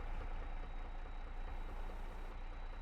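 A tractor engine runs steadily in a farming game while straw bales are gathered and a tine cultivator is used for stubble work, a constant dense mechanical drone with no breaks or voices.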